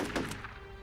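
A banana weapon explodes in the Shell Shock Live tank game, a single short, dull thunk with a brief muffled burst that quickly fades into a faint lingering tone.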